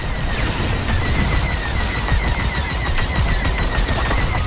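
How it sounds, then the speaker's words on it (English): Rapid bursts of enemy blaster fire in the Star Wars Squadrons space combat video game, a loud continuous volley of shots layered over engine roar and battle noise. "Taking enemy fire."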